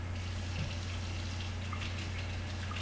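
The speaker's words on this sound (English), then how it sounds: "So I'm going to rinse them with cold water." Cold tap water runs steadily into a sink while kefir grains are rinsed, a continuous soft splashing rush at moderate distance with no speech.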